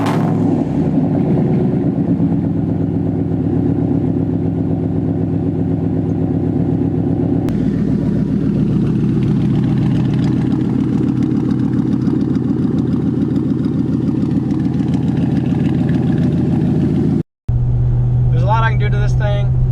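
A Chevy Silverado truck's engine and exhaust idle with a steady deep rumble and loud revs close by, running continuously before cutting off briefly near the end and starting again.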